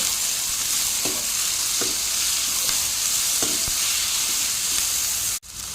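Chopped tomatoes and ginger fry in a hot pan with a loud, continuous sizzle, while a spoon scrapes the pan in several evenly spaced strokes; nobody speaks.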